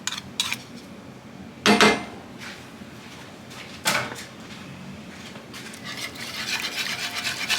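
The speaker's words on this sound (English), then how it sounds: "we're going to switch from the wooden spoon to a whisk" Metal whisk knocking and scraping in a pot of thick white pizza sauce made with flour, with a few sharp clanks and bursts of stirring followed by steady rough scraping, close and fairly loud with no voices.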